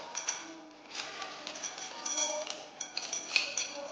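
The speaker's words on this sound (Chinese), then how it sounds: "倒入我们的这个冰糖，这里的冰糖呢有200克" Rock sugar, 200 grams of it, poured into a container while making Guangxi-style pickled radish, giving a run of light clinks and small hard clatters, fairly close and moderately quiet.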